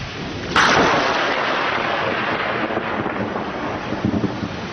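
Thunder from a lightning strike bursts in with a sudden loud crack and then rolls on as a heavy, sustained rumble, close and powerful, with no voices.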